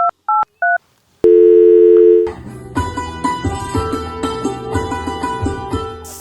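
A phone being dialed gives a few short keypad tones, then a steady dial tone for about a second, before rhythmic music takes over.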